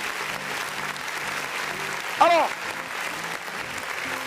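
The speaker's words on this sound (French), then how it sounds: "On va applaudir très fort encore s'il vous plaît." Audience applause at a live show welcoming a singer to the stage, a steady wash of clapping throughout with a brief cheer or whistle in the middle while a presenter's voice speaks over it.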